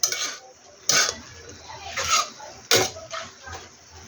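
Pancit bihon noodles with meat and liver are tossed and stirred in a pan, giving a few distinct metallic scrapes and clanks of a utensil on the pan, spaced about a second apart, close and moderately loud with quiet rustling between.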